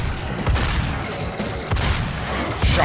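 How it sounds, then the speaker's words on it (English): Gunfire in classic DOOM on the Command Control level: several loud, punchy bursts of shots and booms erupt at irregular intervals over a dense game background. "Man, intense gunfire here."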